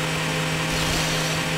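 A chainsaw-like power saw in Garry's Mod drones with a steady, buzzing whine for a moment, continuous and fairly loud with no pauses.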